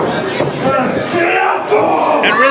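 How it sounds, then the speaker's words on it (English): A wrestling crowd at a steel cage match cheers and roars loudly and continuously, with voices rising and falling in waves. "I never thought I would hear the crowd cheering for Diego Alvarez"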